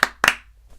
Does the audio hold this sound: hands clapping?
yes